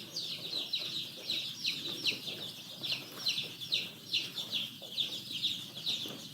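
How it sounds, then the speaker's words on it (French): Young cockerel chicks peep inside a heated poultry house, a dense flock giving rapid, continuous high-pitched cheeping with steady rhythmic pulses, fairly close and with no talking. "Et il y a beaucoup de poussins aussi qui sont là, toujours fatigués."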